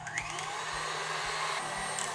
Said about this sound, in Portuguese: E a gente vai bater aqui até esfriar.